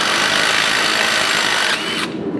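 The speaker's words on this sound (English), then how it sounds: "we're just gonna hold this nut with our wrench and our impact or your socket" An impact wrench hammers a shock absorber nut off a Jeep WJ Grand Cherokee during a shock replacement, a loud continuous burst that runs about two seconds before cutting off, with no talk.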